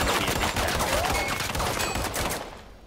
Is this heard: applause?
no